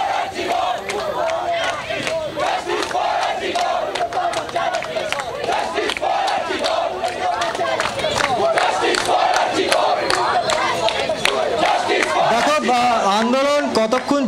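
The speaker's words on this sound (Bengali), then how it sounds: "যাদেরকে আমরা দেখতে পাচ্ছি বারবার করে স্লোগান দিচ্ছেন, তারা বিচারের দাবি জানাচ্ছেন" A dense crowd of East Bengal and Mohun Bagan football supporters blocking a bypass road in protest, chanting slogans for justice in loud, continuous, rhythmic shouts that carry steadily throughout.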